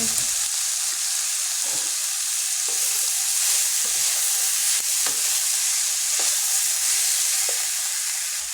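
Long beans sizzle and crackle steadily in a hot pan, with occasional scrapes and clicks of a utensil stirring them.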